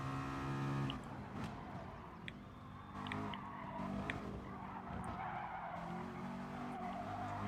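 Race car in Gran Turismo Sport braking hard into a corner after the Kemmel straight, with steady engine drone giving way to loud, sustained tire skidding and squeal that runs for several seconds.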